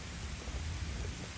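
Rain falling outdoors under a tree, a faint, soft hiss of steady drops with a low rumble beneath, quiet and continuous.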